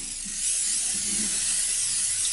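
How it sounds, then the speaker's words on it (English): A steady, close hiss of canola oil cooking spray onto a baking pan, continuous for a couple of seconds with no talking. "I'm going to spray it with a little bit of"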